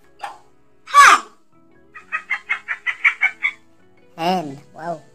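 A talking flashcard toy plays a recorded hen sound, a quick run of about eight rhythmic clucks, with a child's and an adult's voices briefly before and after.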